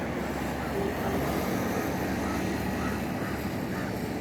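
Traffic passes on the Mumbai-Goa national highway NH66 near Kudal as a steady, broad roar of engines and tyres that holds at an even level throughout, heard from beside the road.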